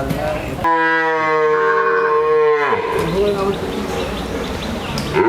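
A Holstein Friesian cow at a dairy farm lets out one long, loud, close moo lasting about two seconds, followed by people talking over farm background noise.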